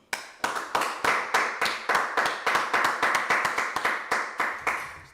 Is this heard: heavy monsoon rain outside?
no